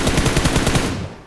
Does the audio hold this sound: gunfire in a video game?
yes